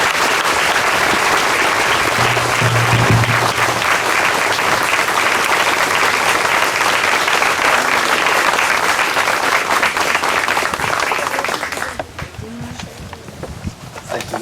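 An outdoor audience at a groundbreaking ceremony for Lunenburg Middle/High School applauds in a steady, dense wash of clapping lasting around twelve seconds before fading out.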